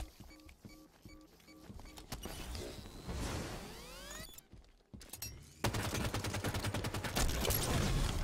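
Gunfire in a free-for-all video game match, with rapid fusillade-like bursts and crackling shots, sweeping whooshes, and a dense stretch of repeated shots near the end, all moderately loud.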